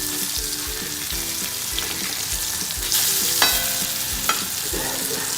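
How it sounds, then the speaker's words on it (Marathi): Surmai kingfish pieces fry in a pan with a loud, continuous sizzle close up, broken by occasional scrapes and a few brief crackles. "दोन्ही बाजूने चांगले आपण भाजून घेणार आहोत।"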